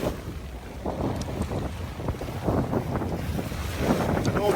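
A heavy Nauticat motor sailer moves under engine and sail together in a steady side wind, with a low engine drone, rushing water along the hull and gusty wind buffeting the microphone throughout.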